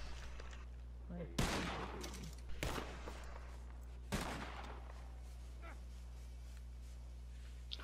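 Three sharp gunshots crack in a video game fight, well spaced and fairly faint overall, over a low steady hum, with some talk around them.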